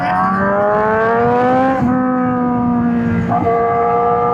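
A Honda CBR1000RR-R Fireblade SP superbike with VTEC revs hard and loud, a high rising engine wail that drops briefly twice with gear shifts before climbing again, heard alone and close.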